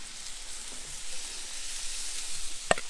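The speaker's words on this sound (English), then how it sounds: "start frying that so you get those edges nice and not burnt, caramelised." Steady sizzling of paneer frying in hot oil on a Big Green Egg, continuous and fairly loud, with a brief sharp clink near the end.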